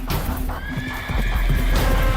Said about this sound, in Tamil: தமினா விசில் அடித்த அடுத்த நொடி ஒரு மந்திர குதிரை அங்கே ஓடி வந்து நின்றது